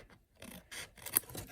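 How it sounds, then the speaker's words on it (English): Scissors trim a small overhanging edge of paper on a handmade card, giving a few short, close crisp snips and rubbing sounds in quick succession. "I'm going to snip that off with my scissors"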